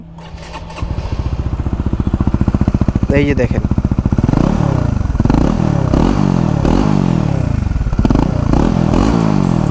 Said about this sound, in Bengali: এবার একটু বাইকের ডাকটা শুনি